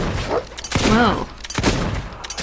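Gunfire from the player's weapon in the Fable II video game comes in a few sharp bursts that overlap with a voice, along with game sound effects and talking.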